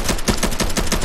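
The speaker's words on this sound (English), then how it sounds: "Oh, I hear gunfire." Rapid machine gun fire from a shooter video game, Unreal Tournament 3, rattles in a dense, continuous burst of quick shots, loud and close with no pauses.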